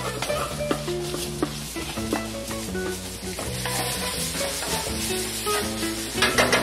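Crushed crayfish body and tail shells being stirred in a hot pan, a close, loud sizzle and fry with scraping stir strokes and light clinks throughout, no voices.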